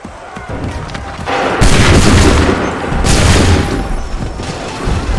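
Cannon volley in Assassin's Creed 3: two heavy booming salvos roughly a second and a half apart, loud and close, each followed by a rumbling decay with no talk.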